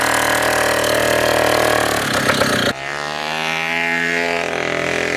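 Rokon motorbike with a freshly built engine idling and running rich, a steady harmonic hum that abruptly drops to a lower, slower idle partway through, heard alone without talk.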